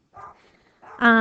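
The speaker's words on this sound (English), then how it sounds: "Sorry if you hear my dogs barking." A dog in a house gives a short whimpering yip and then a sharp bark, brief and close, over a quiet room with no clear talk.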